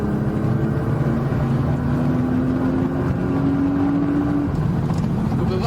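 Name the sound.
race car accelerating out of a corner onto the straight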